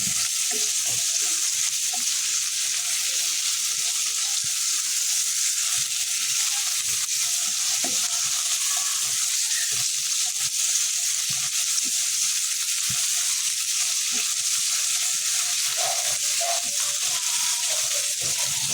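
Vegetables stir-fry with onion, ginger and garlic for escabeche, a loud, even sizzle that runs unbroken from start to finish with only faint scattered clicks beneath it.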